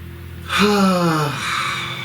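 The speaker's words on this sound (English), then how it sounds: "Please take a nice deep breath." One slow, deep breath, close and clear, swells after a brief quiet moment and trails off gradually with a faint voiced, sighing edge.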